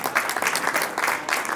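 A crowd at a students' cultural day in Kigali, Rwanda, claps together in a dense, steady burst of applause, loud and close, with no voices over it.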